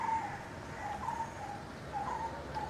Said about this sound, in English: There's those birds that have been following me around. This is such a cute little sound.